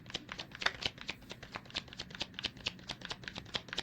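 Tarot cards being shuffled by hand, a quick steady run of crisp riffling flicks and slaps, close and fairly quiet, with no talking over it.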